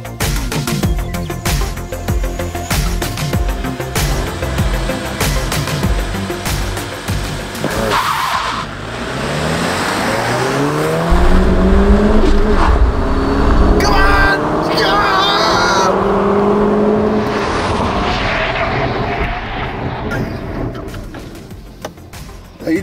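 A Chevrolet Bolt electric car and a Volkswagen Golf GTI drag racing: loud, sustained car engine roar and tire squeal rising through the run, with people talking over the vehicle noise.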